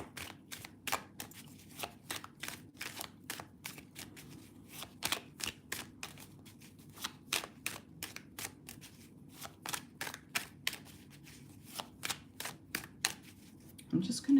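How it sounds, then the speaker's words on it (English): A deck of tarot cards shuffled for a psychic reading, a quick run of crisp riffling snaps and flicks repeating in bursts, close and fairly quiet, with no talk over it. "I'm just going to shuffle these cards prior so that we get a nice, neat video out of this."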